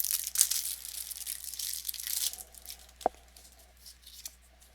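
Scissors cut plastic wrap off a boxed card deck for a Marvel Champions hero pack, close and quiet, giving crinkly cutting and crumpling followed by a single sharp snip or tap.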